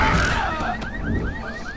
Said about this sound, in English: Jump on cars to trigger alarms.